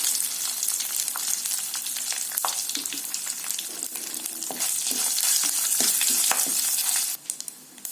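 Asafoetida powder dropped into hot oil with curry leaves for a vallarai keerai sambar, giving a loud, continuous close-up crackle and sizzle with a few spatula knocks before it suddenly drops away near the end.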